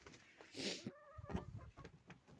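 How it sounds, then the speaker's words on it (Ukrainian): Farmyard chickens cluck and crow in a short, lively burst on a cold day, several birds close by with sharp calls and a rising crowing note, mixed with rustling and scattered noises. "Курі вже мені теж щось там розносять."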